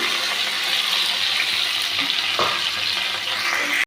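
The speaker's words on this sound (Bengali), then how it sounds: "এরপরে আমি পুঁই শাকটা এর মধ্যে ঢেলে দিচ্ছি" Malabar spinach (pui shak) frying in a pan for a fish-head recipe, a loud, dense, continuous sizzle with a brief clatter partway through, no talking.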